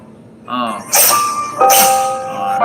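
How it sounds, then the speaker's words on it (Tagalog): A cat sneezes twice close by, two sharp bursts about a second apart, with a voice and ringing tones nearby. "Bahing tuloy yung pusa"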